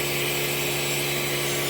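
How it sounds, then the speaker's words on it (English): A white drill brush spins against the cloth upholstery of an old, dirty car interior, giving a loud steady motor whine with scrubbing noise throughout, without talk. "Hit it with the white drill brush"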